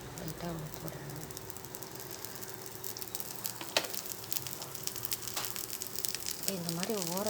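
Dosa batter fries in oil drizzled around a hot pan, giving a soft, continuous sizzle with light crackles, fairly quiet, while someone speaks over it.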